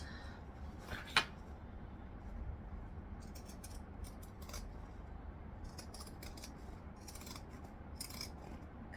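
Pinking shears snip through fabric for a tote bag in quiet, close, intermittent bursts of crisp cutting, with soft rustling between cuts.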